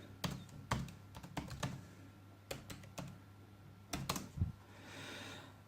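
A password is typed on a laptop keyboard in uneven bursts of close, crisp key clicks with short pauses between, ending with a soft rustle.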